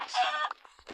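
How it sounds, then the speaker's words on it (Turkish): A Minecraft chicken gives a quick cluck followed by a few soft, short clucks, close and fairly quiet. "Yine tavuk var."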